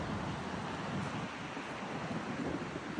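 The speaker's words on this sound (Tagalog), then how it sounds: "ang ganda ng dagat" Sea waves wash steadily onto a shore, a continuous broadband rush mixed with wind noise buffeting the microphone, fairly close and with no voices.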